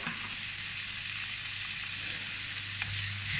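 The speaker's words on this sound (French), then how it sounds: "Là, on fait revenir les poivrons." Peppers and noodles sauté in a wok, giving a steady, close sizzle and hiss with a faint low hum beneath and one brief scrape of stirring near the end.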